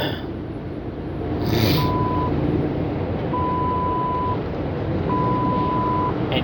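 An in-truck radar detector gives three sustained electronic warning tones spaced a second or so apart, clear above the steady rumble of the moving truck cabin.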